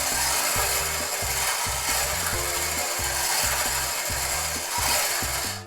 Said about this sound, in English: we've had an upgrade to the draw machine.